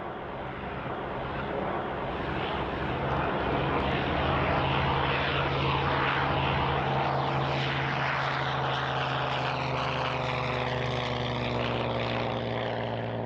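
A Messerschmitt Bf 109 fighter with its propeller engine droning loud and steady as it flies past, the heavy hum swelling in the middle and carrying on without a break.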